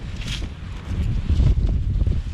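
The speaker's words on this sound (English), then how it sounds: "that wind's cutting right through me" Gusty wind blows outdoors beside the Spokane River, a steady rushing roar buffeting the microphone with low rumbling swells throughout and no talking.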